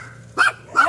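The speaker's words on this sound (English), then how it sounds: "all the dogs are out right now. And they're barking at each other." Dogs barking back and forth outdoors at lunchtime, two short bursts of barks at moderate distance over a quiet background hum.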